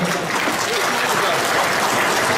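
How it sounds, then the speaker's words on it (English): Banquet hall crowd at a Lunar New Year charity dinner giving a sustained round of applause, dense and continuous clapping filling the room without pause. "Give her a big round of applause."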